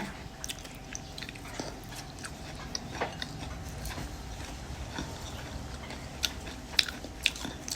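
Someone bites and chews crunchy fried crickets close to the ear, a run of quiet crackly crunches and moist chewing with a few sharper bites near the end, no talk.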